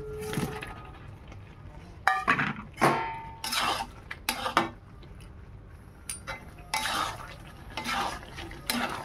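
Fried potatoes are stirred into a goat lung curry, a spoon scraping and knocking against the pot in irregular bursts over a faint simmer, close by, with no talk.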